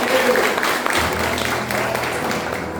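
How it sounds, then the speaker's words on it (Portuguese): A church congregation at a Sunday evening service applauds, a broad steady patter of clapping held at even loudness, with a faint voice and a sustained low musical tone underneath toward the end. "Quem pode aplaudir o Espírito Santo?"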